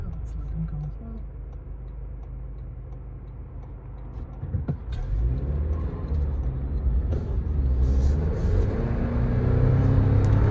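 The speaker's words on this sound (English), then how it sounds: "The engine is a little loud." A 2025 Toyota 4Runner engine drones steadily while driving, a low rumble that rises and grows louder partway through, with some voices in the cabin.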